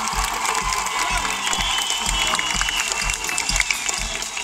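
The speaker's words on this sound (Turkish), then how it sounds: "Şimdi bu güzel alkışlarınızı bu muhteşem orkestra için rica ederim." An audience at an open-air festival concert applauds the orchestra, with thick sustained clapping mixed with crowd noise and low thumping, loud and close.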